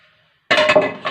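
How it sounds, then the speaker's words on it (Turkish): Large cooking pots set down on a kitchen table: after a quiet start, a sudden close metallic clatter and clink of pots, with a few bumps and ringing knocks over about half a second. "Şu büyük tencereleri şuraya masanın üstüne koyuyorum."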